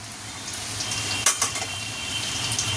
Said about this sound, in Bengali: ছানাগুলোকে এক পিট ফ্রাই হয়ে যাওয়ার পরে আরেক পিট ফ্রাই করে নেব